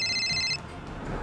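A telephone rings in a Hindi TV drama scene as a bright electronic ring tone for about half a second. It then cuts off, leaving a low room background.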